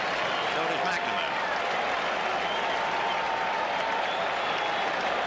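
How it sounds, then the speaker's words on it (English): Big ballpark crowd of about 33,000 cheering and applauding at Fenway Park during Game 3 of the 1986 World Series between the Red Sox and Mets, a steady, dense roar throughout with a play-by-play voice talking over it. "Crowd really alive now, trying to root the Oil Can out of it."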